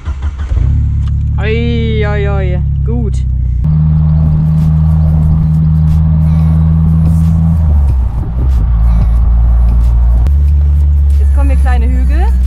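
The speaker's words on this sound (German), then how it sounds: "Das ist ein Jeep Wrangler YJ." Jeep Wrangler YJ with a small engine rolling slowly along a forest track, a steady low engine drone heard from inside with bumps and gear changes, while people talk and exclaim over it.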